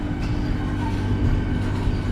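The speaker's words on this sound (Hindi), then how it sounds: "वो गेट बंद होता है और तुरंत गाड़ी चल जाती है" The Vande Bharat Express pulls away from Datia station, heard from on board as a steady, close rumble of rolling wheels and carriage noise with faint rhythmic clicks, alone and without talk.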